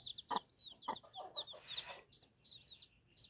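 Small bantam chickens cluck close by in short, quick, irregular bursts, with a few higher squawks mixed in.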